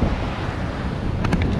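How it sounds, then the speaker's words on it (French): Heavy Atlantic swell and ocean waves wash in a loud, continuous roar, buffeted by wind on the microphone, heard from a fishing outing on the water with no talking. "C'est trop de houle là."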